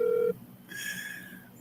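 Telephone dialing tones: a short steady tone cuts off, and after a brief pause a higher beeping keypad tone sounds, close and clear, with no talking.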